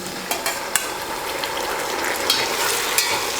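Quarter kilo of tomatoes sautéing in a pan with mint and coriander for Tamil-style country chicken biryani, a steady close sizzle and frying hiss with occasional stirring clicks, no talk.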